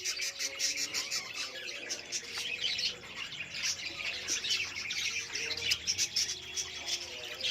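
Pet budgerigars in a breeding setup with nesting birds and chicks chirp and twitter steadily, a busy mix of high tweets and occasional squawks at moderate volume with no talking.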